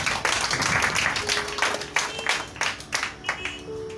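A church congregation applauds during a sermon, producing a loose run of many hand claps at moderate distance. The clapping is fairly quiet and comes in uneven bursts that thin out toward the end, with some voices mixed in.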